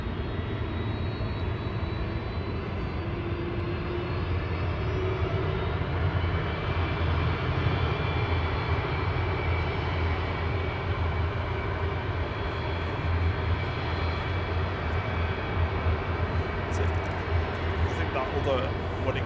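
An Aer Lingus airliner taxiing at Manchester Airport, crossing runway 05 left on a taxiway, gives off a continuous engine drone with a thin high whine. People talk over the sound throughout.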